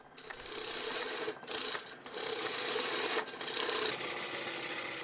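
A wood lathe spins as a chisel carves timber in a Kyoto woodcraft workshop, giving a loud, steady rasping scrape with brief dips as the tool is lifted and pressed back to the wood.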